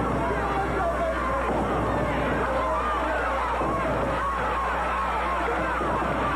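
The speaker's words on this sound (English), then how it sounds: "Crowd here at the Jackson Coliseum getting behind Jarrett" A wrestling crowd at the Jackson Coliseum during a 1988 tag team match roars and murmurs in a continuous dense din, with a commentator talking over it.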